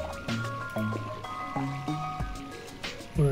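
Water gurgling and trickling through pipes in the puzzle game Where's My Water? 2, heard as repeated bubbly drips and pours over a bright, plinking game melody.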